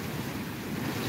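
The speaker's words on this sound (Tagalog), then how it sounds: "Ayan, pumapasok na ang tubig." Storm surge waves wash water onto Gas Boulevard in Barangay Tagas, San Jose, Camarines Sur, a steady loud roar of surf mixed with wind buffeting the microphone and no talk.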